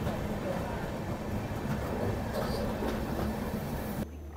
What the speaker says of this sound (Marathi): एक मालगाडी आहे, तिला क्रॉसिंगसाठी थांबवलं आहे आणि आपली ट्रेन आता पास होते इथून.